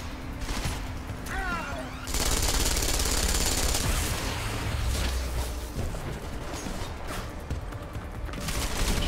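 Devastator shotgun fire in the video game Deus Ex: Mankind Divided: loud, dense bursts of blasts and impacts, hammering almost without pause through a chaotic firefight.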